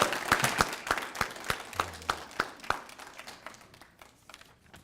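A small audience at a multicultural heritage alliance event claps, with individual sharp hand claps distinct and fairly close, thinning out and fading toward the end.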